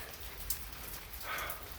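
Rain begins to fall outdoors, a faint, steady hiss of drops spread evenly through the short stretch.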